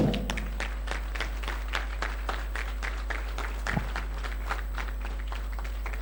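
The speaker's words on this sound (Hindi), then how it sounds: "मैं चाहूंगा उसके लिए भी आप भरपूर तालियां मारें।" An audience claps at an organizers' welcome speech before a comedy theatre show, scattered sharp claps with a steady low hum underneath, fairly close and sustained for several seconds.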